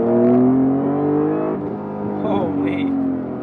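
A Clarion Builds Honda NSX, a 90's supercar driven hard through canyons, its engine pulling loud and close with a rising, then settling tone, and a brief chirp near the end.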